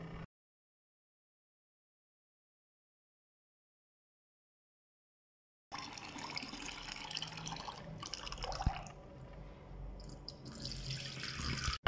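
Soaked rice being rinsed under a running kitchen tap, water splashing steadily into a sink for several seconds after a long stretch of silence.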